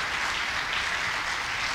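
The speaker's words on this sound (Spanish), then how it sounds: "Denle el mejor aplauso al Señor" A church congregation applauds during a Sunday morning service, a dense, even wash of clapping from many hands throughout the short moment.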